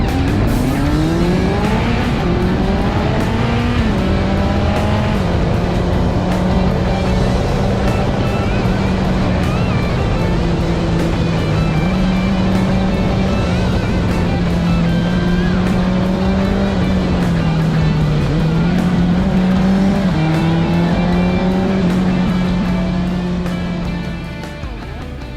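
Motorbike engine revving hard while ridden fast, its pitch rising and falling through gear changes and held at a loud, steady drone close by, with no talk over it.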